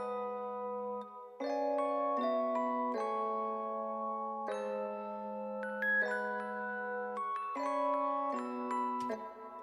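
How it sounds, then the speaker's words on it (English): A Rhodes electric piano on the Lounge Lizard default preset plays sustained, bell-like soul chords, clear and mellow, changing chord every second or so with no voices. "I added this RHODES just to thicken up the sound a little bit."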